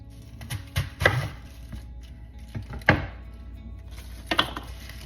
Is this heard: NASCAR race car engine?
no